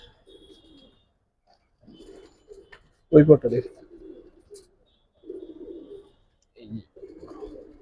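Gribaz and coloring pigeons in a loft give soft, close cooing calls in short bursts separated by quiet gaps, and someone speaks briefly among them.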